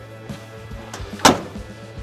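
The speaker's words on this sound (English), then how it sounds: "That door closes good." Cab door of an old 4x4 truck swinging shut, a few faint creaks and clicks followed by one sharp, solid slam, then quiet handling noises, with no speech.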